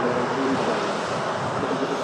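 A TUI Boeing 787 Dreamliner at Manchester Airport produces a steady, broad jet roar, even and unbroken throughout.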